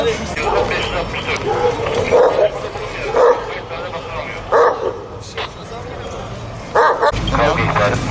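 An Aksaray Malakli dog barks and yips repeatedly, loud and close, with a few whimpers, while people talk over it throughout, at a protest outside a consulate in Antalya.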